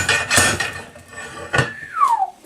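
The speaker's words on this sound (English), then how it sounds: "I'll give it a tap and see what happens here." Metal taps ring out as a Johnson 5.5 outboard's water intake screen is knocked into place, two sharp strikes with a bright ringing decay and a falling metallic tone after the second, close and loud.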